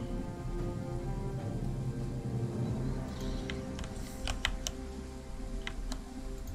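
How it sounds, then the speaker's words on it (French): Steady rain in the video game Total War: Three Kingdoms patters over a low background hum, with a few sharp clicks and taps scattered through the second half. "Par contre on a encore une fois de la pluie"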